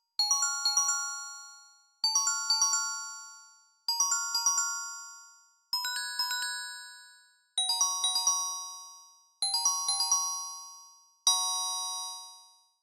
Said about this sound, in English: I added a little flourish of bells, since I thought the song could use a bit of pizzazz